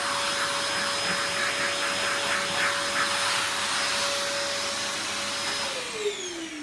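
A vacuum cleaner runs steadily at close range, its loud whining roar pulled over a cat. A constant motor tone holds throughout, then its pitch slides down near the end. No one speaks.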